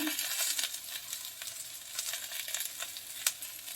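Mustard and green chili paste sizzles in a pan with okra, a moderate hissing fry with scattered crackles and a brief stirring scrape near the end.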